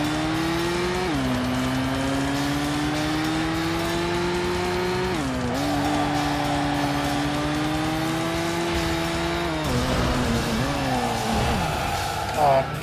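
Race car engine from the video game Tokyo Road Race, a loud sustained drone that climbs through the gears with shifts, with tire squeal near the end.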